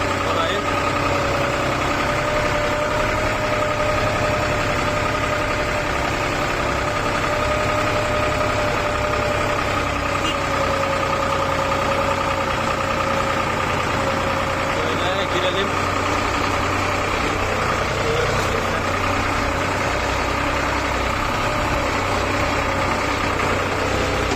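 A tractor engine idles steadily and loudly on a very steep village slope, a continuous low rumble with a faint whine holding through the whole stretch and no break.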